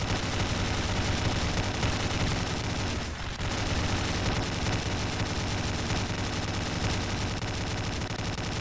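Dense, continuous automatic gunfire in the video game Slendytubbies 3, loud and sustained for the whole stretch with only a brief dip partway through and no talking.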